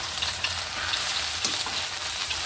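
Marinated chicken frying in a pan, a steady bright sizzle and crackle with small spatters throughout, close and constant with no talking.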